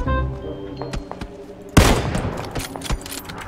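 Gunfire in the battle-royale game PUBG: a sudden loud broadband burst of shots crackles out, followed by scattered further pops and thumps at mid distance amid game ambience, with no talk.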